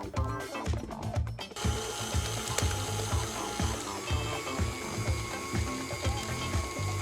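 A stand mixer's whisk attachment is swapped for a dough hook while making a New Orleans king cake, producing a rapid mechanical ratcheting clatter that runs steadily and close, with no talking.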